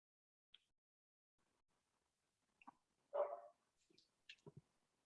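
A dog barks outside a house in a few scattered, fairly faint barks and yips with quiet gaps in between, one somewhat louder bark near the middle.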